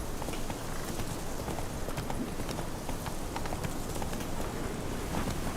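Horse hooves in The Witcher 3 video game, a fast, continuous run of close clip-clop beats over a dense, noisy ambient bed with no speech.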